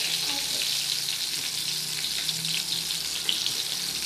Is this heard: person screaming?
no